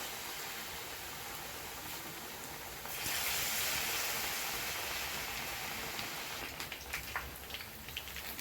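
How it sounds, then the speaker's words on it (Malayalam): Banana fritters (pazham pori) sizzle in hot oil in a pan, a steady soft hiss that swells louder after a few seconds and crackles with small pops near the end, no voices. "എണ്ണ ചൂടായിട്ടുണ്ട് ഓരോന്നായിട്ട് നമുക്ക് ഇട്ട് കൊടുക്കാം"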